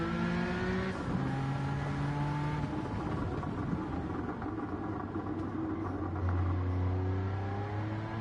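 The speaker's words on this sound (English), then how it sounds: "Now the 959 that's in this game is actually quite nice to drive." A Porsche 959 driven in a racing video game, its engine droning steadily throughout with rising and falling revs and gear changes, loud and continuous with no talking.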